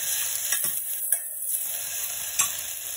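Spices with asafoetida sautéing in hot oil, a soft steady sizzle with a few light stirring clicks from a spoon against the pan, quiet and close, with no talking.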